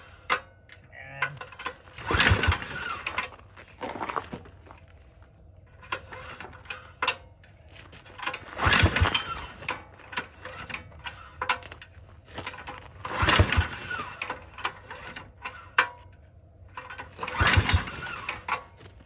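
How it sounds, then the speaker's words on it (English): Supercharged diesel-powered mini bike engine on a cold start, sounding as repeated bursts of clattering, rattling mechanical noise separated by quieter gaps, fairly close and without speech. "Supercharged diesel-powered mini bike cold start"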